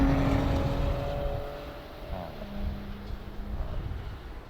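The engine of a 2018 Porsche Panamera 4 E-Hybrid holds a steady, moderately loud drone, with a brief rising rev before settling into an even hum.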